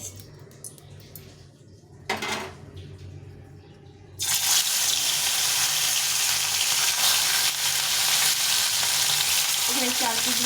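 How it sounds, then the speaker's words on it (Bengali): Pieces of rohu fish hit hot oil in a pan and burst into a loud, steady sizzle that fills the rest of the clip, after a quieter stretch of faint kitchen noise and a brief clatter. "তেলটা গরম হয়ে গেছে এখন আমি মাছগুলো ভেজে নেব"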